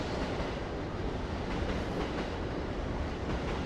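A train rumbles along tracks near Shinjuku Station in Tokyo, a steady, dense wash of rail noise that holds evenly for the whole stretch with no voices over it.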